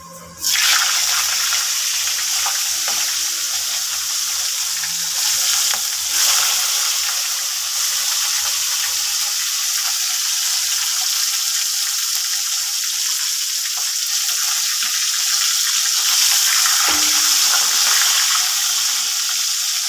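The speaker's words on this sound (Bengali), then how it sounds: "তেলটা গরম হয়ে গেছে, এবার আমি মাছের মাথাগুলো ছেড়ে দেবো।" Fish heads fry in hot oil, giving a loud, even hiss of sizzling that runs steadily from start to finish without pause.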